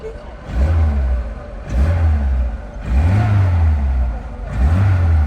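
A Lada Niva car engine revs up in four repeated bursts, each rising and falling in pitch, loud and close with a steady mechanical drone between.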